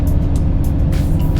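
Deep rumbling Cummins diesel engine of a pickup truck nearby, a steady low growl with a few hissing bursts of air over the top.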